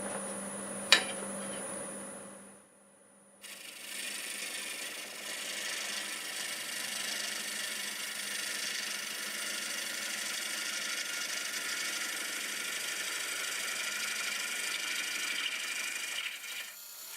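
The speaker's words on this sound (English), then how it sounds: "I'm going to switch to a 1/2 inch bowl gouge and do a little cleaning up here." A wood lathe spins a walnut bowl blank while a 1/2-inch bowl gouge cleans it up, a steady whirring hum with a faint scraping hiss, starting after a short tap and pause.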